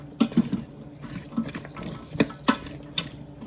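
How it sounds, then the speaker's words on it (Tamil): Water pours into an Instant Pot of chickpeas for chana masala, with a few sharp clinks and splashes, short irregular bursts over a quiet kitchen background. "வாட்டர் ஆட் பண்ணிக்கிறேன்."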